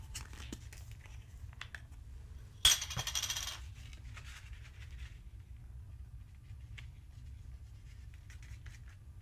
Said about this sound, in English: then tap off any of the excess